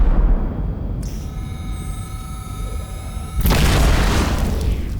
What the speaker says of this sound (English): Incoming enemy torpedo.